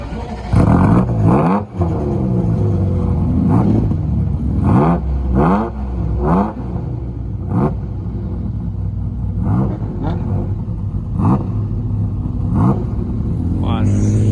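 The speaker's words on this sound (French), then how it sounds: "c'est les commissaires qui vont les faire démarrer un par un" Sports cars at the Le Mans circuit, including a Ferrari F40, Lamborghini SVJ and Porsche GT3 RS, are started one by one. Loud engines rev repeatedly in sharp rising and falling bursts over a constant idling rumble.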